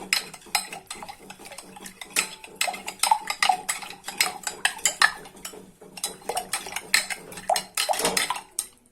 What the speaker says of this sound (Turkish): bir yemek kaşığı kadar boraks koyuyorum ve karıştırıyorum